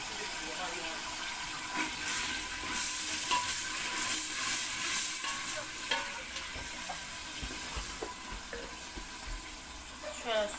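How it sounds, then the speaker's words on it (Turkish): Onions sizzle and crackle steadily in a hot pan, with occasional stirring clatter and someone speaking nearby. "soğanımı da doğradım hazır ettim. Kavurayım."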